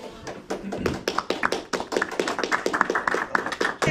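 Rapid, irregular sharp claps from a few people, near and lively, continuing across the whole stretch.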